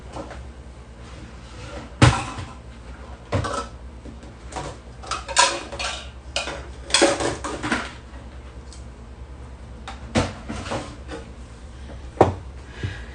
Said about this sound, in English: I'm going to set that aside and get another bowl.